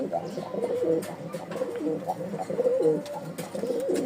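Pigeons coo repeatedly in a cage just after release, layered soft rolling calls that continue throughout at close range.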